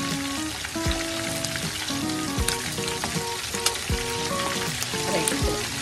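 Pork lechon kawali frying in a pan, a steady dense sizzle with crackling pops and spatters, loud and close, without talk.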